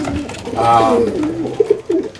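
Racing pigeons coo close by in a short, loud burst of throaty, rolling calls, with a few softer notes at the end.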